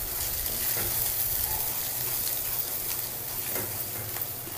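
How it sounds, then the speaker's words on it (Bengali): Spice paste with ground cumin and red chilli powder frying in a pan, a faint continuous sizzle with occasional light stirring, quiet and steady. "মশলার কষানোর উপরে তরকারির স্বাদ বহুলাংশে ডিপেন্ড করে, সেজন্য মশলাটা কষাতে হবে খুব সুন্দর করে"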